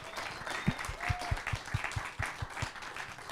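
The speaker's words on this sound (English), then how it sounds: "Could we have a round of applause for the directors?" Audience at a short film festival gives the directors a round of applause, a fairly faint, scattered patter of clapping with a few distinct nearby claps, steady over a few seconds.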